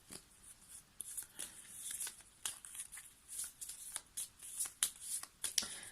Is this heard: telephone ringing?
no